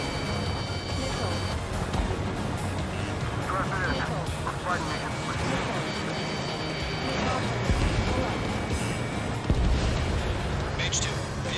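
Continuous rumbling missile explosions and combat noise in the flight game Ace Combat 7, a dense roar with occasional heavier booms, while radio voices talk over it.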